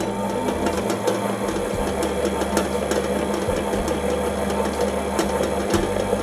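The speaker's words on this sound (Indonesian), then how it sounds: "Kita bisa naikkan kecepatan mixer" A stand mixer kneads bread dough for a plaited loaf at a raised speed, giving a continuous, even mechanical whir with faint rhythmic knocking throughout.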